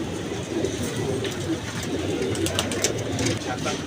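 Pigeons coo softly amid a busy outdoor background hum, with faint voices and scattered clicks nearby.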